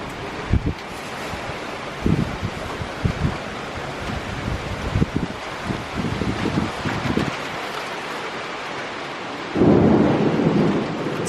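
A thunderstorm rolls in outdoors, with repeated rumbles and cracks of thunder rising over a steady wash of wind and rain, and a louder, closer burst near the end.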